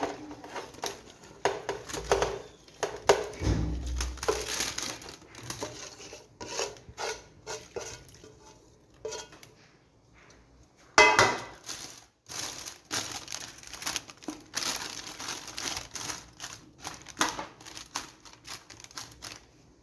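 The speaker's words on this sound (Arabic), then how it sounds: "هضيفه كده الكميه اللي انا مغلفاها في ورق زبده وورق لوري وورق فويل" Food packets wrapped in parchment paper and foil are handled in a kitchen while cooking a meat dish with vegetables and spices. The paper rustles and crinkles steadily and closely, with a short quiet lull midway and a sharp burst after it. No one speaks.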